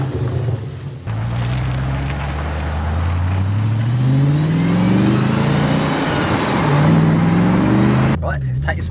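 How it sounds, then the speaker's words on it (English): A B7 Audi RS4 engine revs and pulls away, rising in pitch through the gears as wind noise builds, then cuts off near the end. "let's take this one out for a little test drive"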